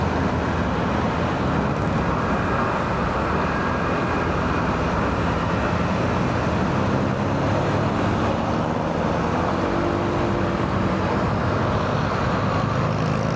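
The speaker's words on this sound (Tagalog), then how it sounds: "Right now, yun, exhaust pipe natin di naririnig, pero mga sasakyan rinig na rinig natin." Cars and other traffic passing on a city road during a night ride on a Honda ADV 160, a constant loud rumbling wash of road and wind noise with no distinct breaks and no talking.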